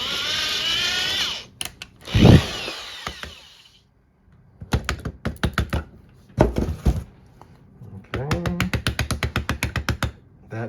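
Knife scraping oily shavings from a fatwood handle: a series of sharp, rasping strokes, close and loud, with short bursts and pauses, ending in a rapid run of repeated scrapes.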